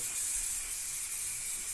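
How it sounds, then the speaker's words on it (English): An aerosol can hisses steadily as spray is laid onto model railway scenery for a wild meadow, a close, quiet, continuous jet of air lasting under two seconds. "So I'll lay the spray on, okay"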